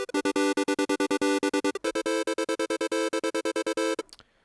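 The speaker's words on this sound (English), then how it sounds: "we're going to be going up to almost a square pulse wave, but in between this saw" An FL Studio Sytrus synth operator set near a square pulse wave plays a rapid, buzzy repeated note in an even staccato pattern, shifting pitch once midway before cutting off abruptly.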